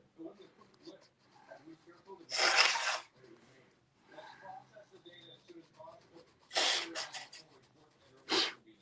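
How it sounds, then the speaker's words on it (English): A person with sinus trouble blows their nose in two loud, wet bursts, the second a quick series of honks followed by a short snort, between stretches of nearby conversation. "Hold on, I gotta blow my nose."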